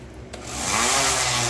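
A power sander fitted with 40 grit sandpaper starts up after a brief quiet moment, then gives a loud, steady abrasive whirr against wood on a boat build.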